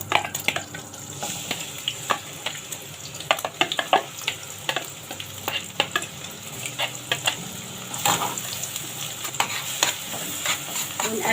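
Onions fry in gently heated olive oil, a steady close sizzle broken by frequent spoon-and-pan scrapes and clatters as they are stirred.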